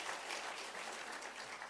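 Audience applause at a university law school launch in Kenya, a brief, continuous wash of clapping heard at a distance at moderate volume.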